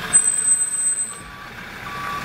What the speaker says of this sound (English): I'm going to roll the windows up so we don't have to hear that truck